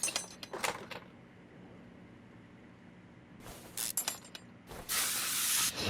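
A spray can hisses in short bursts onto the leaf spring suspension and bushings of a 1969 supercharged El Camino, with a quiet gap between, then a longer, steady spray toward the end.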